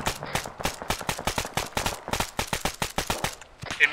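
.50 caliber machine gun firing a long sustained burst of rapid, evenly spaced heavy shots, loud and close, with no talk over it.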